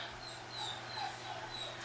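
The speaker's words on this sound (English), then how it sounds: "you can hear the dogs whining" Dogs whine faintly in the background, thin high whimpers drifting in and out over a soft steady hiss in a quiet indoor room.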